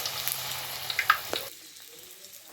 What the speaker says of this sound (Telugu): పూరీలు అయితే వేస్తున్నానండి